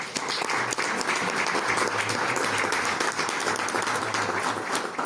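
Applause from an audience at a Murcian trovo gathering for a Christmas CD presentation fills the room as dense, steady clapping that holds at an even level throughout, with no talking over it.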